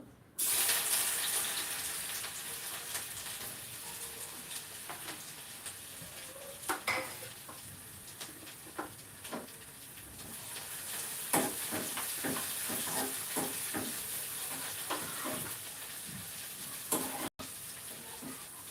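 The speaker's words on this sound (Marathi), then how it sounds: "आता हे तेल आपलं गरम झालेलं आहे तर यामध्ये आपल्याला अद्रक लसूण पेस्ट घालून घ्यायची आहे" Ginger garlic paste frying in hot oil sputters in a steady close sizzle, broken by scattered clicks and scrapes of a spoon against the pan, with no one talking.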